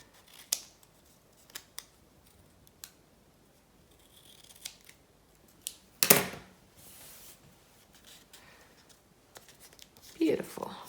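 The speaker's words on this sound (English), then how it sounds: "I'm just gonna trim what overhangs now" Scissors snip overhanging paper around a matchbox shrine in scattered, crisp cuts, one sharper and louder than the rest, amid quiet handling rustle and soft, faint speech.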